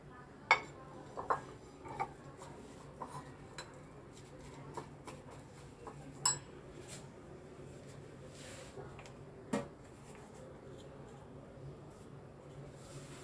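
Omelette ingredients being stirred in a bowl, with scattered light clinks and taps of a utensil against the dish over a quiet room background.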